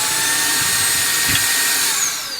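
A Ryobi vacuum cleaner runs at normal speed, giving a loud, steady whining whir with a faint rising tone that eases off slightly at the end, with no speech.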